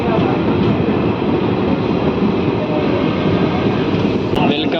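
Steady loud rumble and rattling of a DEMU train on the Mahabubnagar–Kacheguda line running after leaving Shadnagar, recorded from inside the carriage, constant with a faint click near the end.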